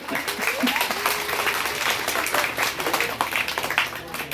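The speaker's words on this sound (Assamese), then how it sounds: "কয় যদি হাত চাপৰিব লাগে" An audience claps together at a motivational talk, the applause steady and fairly loud across the whole stretch, with scattered voices faintly mixed beneath it.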